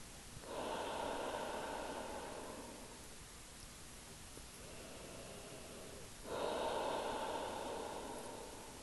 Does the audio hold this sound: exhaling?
yes